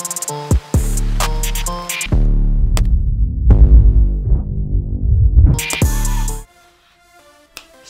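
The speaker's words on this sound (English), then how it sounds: "make sure you line up the whooshing sounds directly where you want the transitions to be" Edited handheld-gimbal footage carries swept whoosh transition effects layered over a throbbing music bed, with sharp sweeps near the start and again around six seconds before the sound cuts out to near silence.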